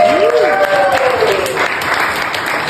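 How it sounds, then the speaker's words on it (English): An audience at a comedy open mic in a bar applauds with a burst of loud, close clapping, while a voice speaks over it and a whoop rises at the start. "Give him a round of applause for it."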